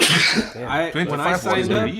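A quick sneeze bursts out at the very start, then people carry on talking over it.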